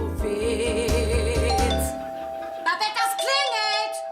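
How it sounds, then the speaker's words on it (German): A doorbell rings during a stage play in a German theatre, a two-tone ding-dong chime following a loud sung voice, with people talking afterward. "das klingelt!"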